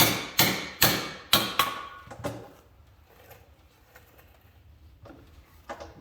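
Hammer tapping a metal bar piece into place, five sharp, ringing strikes in quick succession up close, then a quiet pause with faint handling noises and a light knock at the end.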